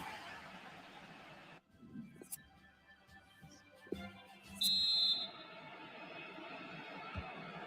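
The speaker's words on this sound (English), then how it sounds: "And there is the half-time whistle" A referee's half-time whistle in the FIFA 19 football video game sounds as one shrill, loud blast of about half a second, over a steady crowd murmur and scattered game effects.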